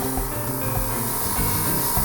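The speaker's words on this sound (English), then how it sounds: "when I want to cover a section, I kind of just spray it and do little circles" Paint sprays onto a 1/72 scale Tamiya F-84G Thunderjet model kit in a brief, steady, close hiss that holds even from start to finish.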